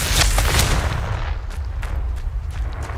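A blasting Confringo spell going off in Hogwarts Legacy, a loud booming burst that decays into a rumbling low-end tail with scattered crackles over about three seconds.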